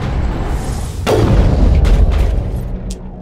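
Mass Effect combat produces a heavy boom that rolls into a sustained low rumble, with a few faint distant pops afterward. The sound is loud and close.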